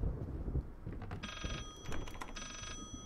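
An old telephone bell in the horror game Layers of Fear rings in two long bursts, fairly loud against a dark, rumbling ambient backdrop.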